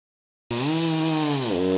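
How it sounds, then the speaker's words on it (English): A chainsaw suddenly starts up nearby, its steady, loud buzzing drone holding, then its pitch dips slightly near the end, with no one talking. "Got a chainsaw."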